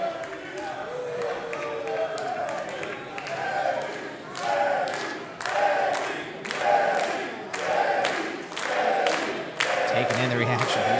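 Wrestling crowd at a live indoor match between a luchador and his opponent, a steady roar of cheers and shouts that surges in waves over a continuous murmur, loud and close, with scattered thuds.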